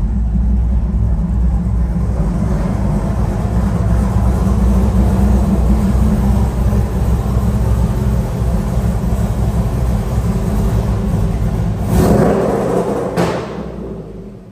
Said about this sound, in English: I think we got to pull a truck in here.